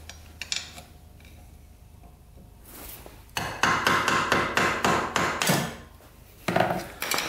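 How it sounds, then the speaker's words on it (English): Light hammer taps on the exhaust manifold of an abandoned Yamaha Breeze scooter: a few faint knocks, then a quick run of sharp metallic strikes, close and loud, with a final pair of hits. "what we're going to try to do is just hammer this very lightly"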